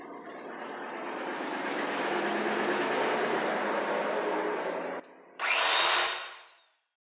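A chainsaw cuts through red pine in a sped-up run, a dense, continuous high buzz that swells and holds, breaks off briefly, then returns in a final loud burst that fades out.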